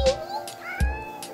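A cat meows close by, giving a drawn-out rising cry followed by a shorter second call, with no talking over it.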